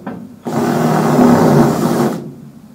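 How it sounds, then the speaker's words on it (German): An 8 mm drill bit bores out rivets from an old floor plate in a Mercedes Sprinter van conversion, giving a loud, steady whine of about a second and a half that starts abruptly and cuts off. "Direkt mit dem 8er Bohrer rein."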